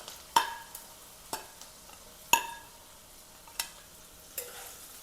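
Potatoes for an eggplant and potato dry curry get mixed in a frying pan, with about five distinct spatula clinks and scrapes over a faint, quiet sizzle, close by and without voices.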